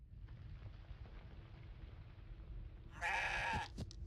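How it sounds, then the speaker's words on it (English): A goat in the video game CrossCode lets out a loud, wavering bleat near the end after a stretch of low rumbling game ambience, followed by a couple of brief clicks. "Excited goat noises."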